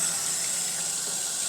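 Water running steadily from a tap into a container to thin a car-wash foam cannon soap mix, a continuous close hiss and splash with no talking.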